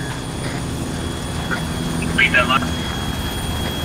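Helicopter engine drone in a video game, a steady mechanical hum running under a voice speaking over radio chatter throughout.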